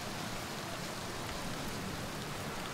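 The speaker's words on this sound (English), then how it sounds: "Relax in rain." Soft, even hiss of steady rain in Outer Wilds, a uniform wash of fine droplets with no voices or distinct events, moderately quiet throughout.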